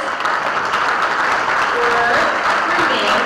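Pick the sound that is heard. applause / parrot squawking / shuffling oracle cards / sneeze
applause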